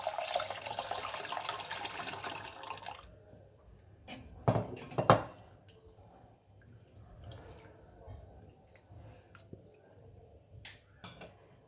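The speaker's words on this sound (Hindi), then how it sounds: "इसको मैं एक बड़े बाउल में डाल के एक बार अच्छे से धो लूँगी." Yellow moong dal being washed in a large bowl, with water running and swishing for a few seconds, then quieter drips, clinks of the bowl and soft sloshing, close and fairly faint.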